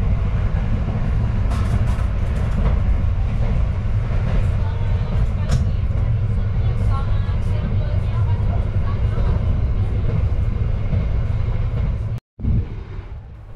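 A Sembrani passenger train on the Jakarta–Surabaya line rumbles steadily and loudly with heavy low-end rolling noise and faint rattles, then cuts out briefly near the end before resuming.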